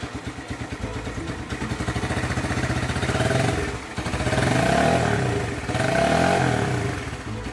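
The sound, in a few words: motorcycle engine starting and revving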